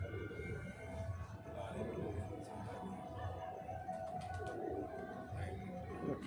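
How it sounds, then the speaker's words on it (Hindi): Two pigeons coo softly and repeatedly indoors in a sitting room, a faint, low murmuring under a steady background hum. "दोनों कबूतर बैठक में हैं"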